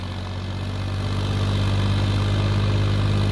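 A tractor engine that will not move off idles with a steady, loud, low drone and a constant throbbing hum, with no voices.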